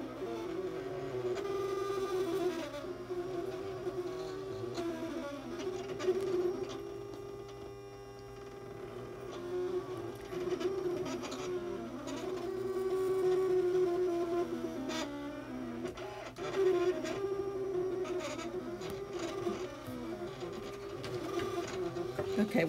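A Silhouette cutting machine working through magnet sheet, a steady mechanical whir with shifting motor tones and soft carriage movements running throughout, close and moderately loud.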